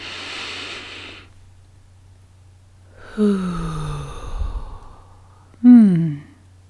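Deep breathing exercise: a long breathy inhale, then two voiced sighing exhales with a sound, close and fairly loud, no words spoken.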